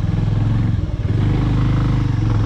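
A Bajaj Avenger 180 motorcycle rides off-road over loose gravel and sand, its engine thrumming steadily and close with a rough, uneven pulse and a brief dip in the middle.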